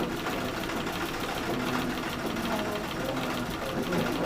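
A treadle sewing machine runs steadily in a sewing class, its mechanical whirr and light knocking continuous and fairly close, with voices audible in the room.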